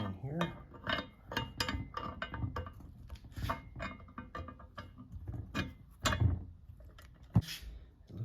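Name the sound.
installing worm gear on Porter Cable drill press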